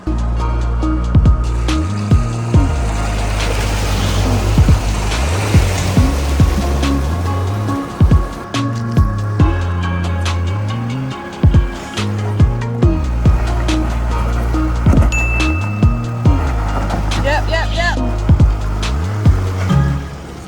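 A 4WD vehicle fords a creek on a rough Victorian high country track, its engine droning steadily while water rushes and splashes loudly around it, with repeated thumps and knocks from the vehicle over about twenty seconds.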